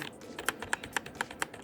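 Quiet-switch CoolerMaster MasterKeys Lite L mechanical keyboard keys are pressed in a quick, even rhythm, about eight crisp clicks close up, with no voices.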